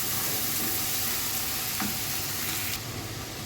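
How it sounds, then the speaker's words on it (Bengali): Ginger-garlic paste masala frying in a pan for a dried-fish curry, with a constant dense sizzle and hiss, close and steady, and a couple of light utensil taps, no talking. "মশলাটা খুব ভালো মতন কষিয়ে নেব আগে"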